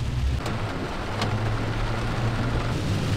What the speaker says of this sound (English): There's a whole bunch of rain coming.